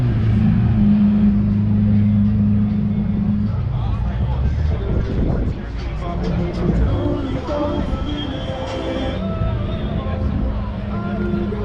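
A Lamborghini Aventador engine gives a loud, steady rumble, with a low sustained tone early on, beneath continuous crowd chatter and nearby talk.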